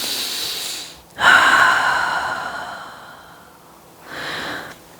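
Slow, audible exhale through the nose and mouth during a yoga session as the body folds down, a long breathy whoosh fading out, followed by a shorter second breath, close and alone.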